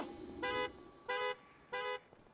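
Car alarm sounding in Hitman Absolution, three evenly spaced bright electronic honks ringing out against a quiet background, each lasting about a quarter second.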